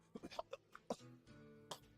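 Someone close by gives a few rough, throaty coughs and hacks in short irregular bursts, with a low drawn-out groan in between.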